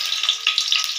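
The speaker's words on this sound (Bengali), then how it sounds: "আলুগুলো ভেজে নেব" Potatoes frying in hot oil, a dense close crackling sizzle heard alone for about a second.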